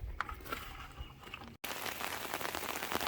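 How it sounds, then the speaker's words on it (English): Steady light rain patters on surfaces outdoors, soft and continuous with a few scattered drops, briefly cut by a moment of silence before the hiss resumes. "we are supposed to get over 3/4 of an inch of rain today"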